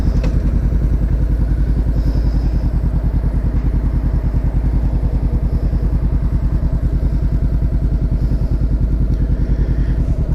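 A Honda CB500X motorcycle is ridden with its engine running steadily: a loud, close, even throbbing drone with rapid regular pulsing and no talk.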